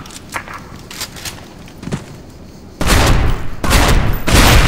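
Benelli M4 shotgun shots in the video game Special Force 2: a few lighter thuds and steps give way to a loud burst of heavy booming blasts, with dense echoing reports filling the latter half.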